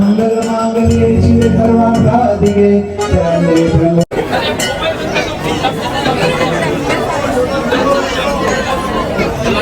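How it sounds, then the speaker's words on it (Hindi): Dense chatter of a large crowd of devotees packed into a Hanuman temple during Hanuman Janmotsav in Banswara, a continuous loud babble of many voices close around, with some musical tones early on. "भीड़ बहुत ज़्यादा है, ज़्यादा होने की वजह से दर्शन नहीं करा पाते क्योंकि लाइन बहुत लंबी है।"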